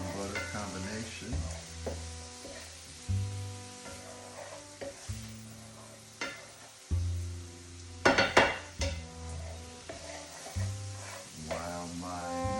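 Mushrooms fry in an oil and butter mix in a pan, with a steady sizzle under repeated stirring and scraping of a utensil and clattering cookware, close up throughout.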